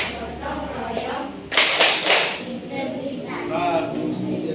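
A classroom of students performs the rhythmic Tepuk PPK clap, a short run of sharp group claps mixed with chanting voices in a lively room.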